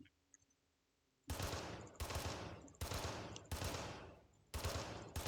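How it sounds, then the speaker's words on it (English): Gunfire in the tactical shooter game Ground Branch, five loud, sharp bursts of automatic fire, each trailing off in an echoing tail, after a second of near silence. "The guns all sound quite a bit better, so they've definitely reworked the sound system because it sounds real good now."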